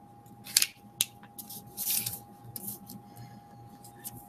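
Scissors snip through paper for a square roots foldable, several sharp, close cuts at irregular intervals with a faint steady hum underneath.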